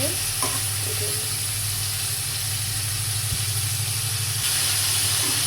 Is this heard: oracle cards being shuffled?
no